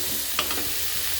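Onion and tomato sauté in a pan for a radish thokku and bell pepper chutney, giving a steady close sizzle with a brief scrape of stirring.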